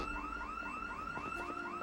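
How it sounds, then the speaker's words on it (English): A car alarm wails in Project Zomboid, a repeating rising electronic whoop cycling steadily about every quarter second at moderate distance, with no talking. "the local child gang set off a nearby alarm"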